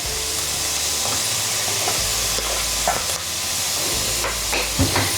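Ginger garlic paste frying with onions in a pan for Andhra-style chicken fry, a steady close sizzle with stirring scrapes throughout.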